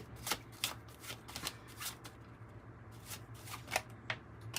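An oracle card deck being shuffled during a tarot reading, a series of quick riffling bursts close up, separated by short pauses, with no talking.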